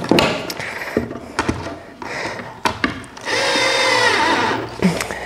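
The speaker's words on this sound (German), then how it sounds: "Dann habe ich es halt mit passenden Schrauben einmal angezogen." A power tool drives screws while furniture is built inside a Sprinter 4x4 camper van. Scattered knocks and clunks lead into a steady, close electric drill whir of about a second and a half, followed by a few more taps.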